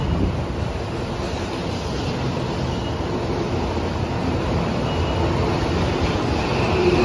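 A steady, loud rumbling roar of a Tokyo Metro Hibiya Line 13000 series subway train arriving at Tsukiji Station, broadband and continuous, with a faint high whine near the end.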